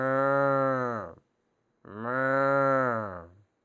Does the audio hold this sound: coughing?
no